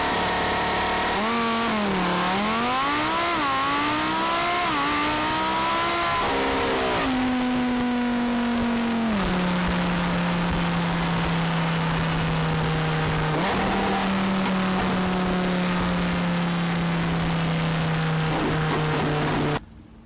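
Lamborghini Huracan launching from standstill to 60 mph with launch control, its engine howling up through the revs in a loud, rising roar, then holding a steady drone with brief dips at gear changes before cutting off at the end.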